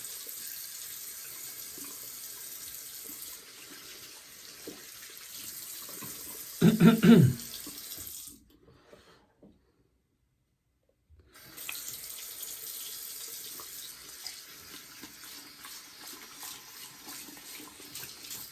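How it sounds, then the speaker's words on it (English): Tap water runs steadily into a sink while a shaving bowl is rinsed out, with a brief louder splash partway through, then a pause in the flow before the water starts running again. "And then rinse out the bowl a little bit so you guys can get a look at the inside there."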